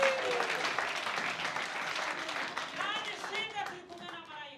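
A church congregation applauding warmly, a dense wash of clapping and crowd noise at the start that thins out as a preacher's voice carries on over it.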